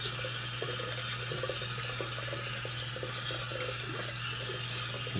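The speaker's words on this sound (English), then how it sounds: "Turn your water to cold." Cold water runs from an old single-knob hot and cold tap into a tub or sink while rinsing after a shave, a steady close splashing stream with a faint low hum underneath and no talking.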